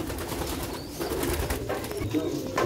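Pigeons cooing close by, low soft murmuring coos that run continuously through the short stretch, mixed with some background noise.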